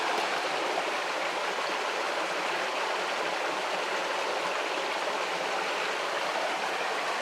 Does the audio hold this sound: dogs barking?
no